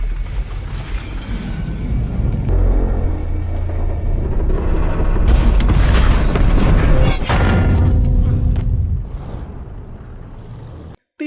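A tank cannon fires and destroys an enemy tank in a Russian-versus-German tank battle, a loud sustained booming roar with heavy low rumble that swells midway and cuts off abruptly near the end.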